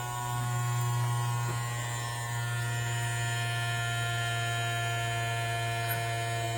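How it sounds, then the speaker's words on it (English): An Ikich blender's vacuum pump runs with a steady, continuous electric hum and buzz, close and even, with no speech over it. "This is the vacuum pump."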